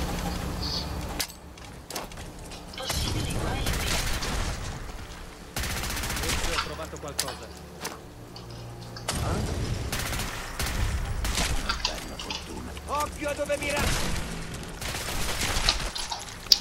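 Rifle gunfire in the video game Fallout 4 comes as loud, repeated bursts of shots spread across the stretch, with some game background sound between the volleys.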